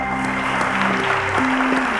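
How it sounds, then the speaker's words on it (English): A round of applause at a televised school quiz competition, a dense steady clatter of clapping from an audience with sustained music tones running underneath, fairly loud and continuous throughout. "A round of applause to"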